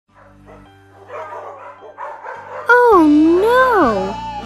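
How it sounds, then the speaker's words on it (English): Several cartoon dogs bark, yip and whine in a children's story scene, loud and busy, rising into a long wavering howl-like whimper near the end. "Soon, all the dogs were barking"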